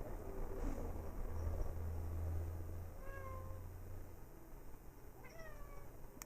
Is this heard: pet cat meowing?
yes